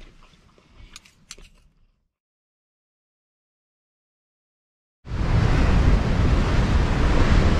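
Waves wash against a rocky seashore in early morning; after a few seconds of near silence, a loud, continuous roar of surf mixed with buffeting wind bursts in and holds steady to the end.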